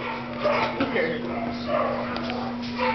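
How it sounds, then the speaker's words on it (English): A tiny five-pound poodle whimpers and yips in soft, short bursts close by, with people talking over it and a steady low hum underneath. "I like, want to be with another doggy."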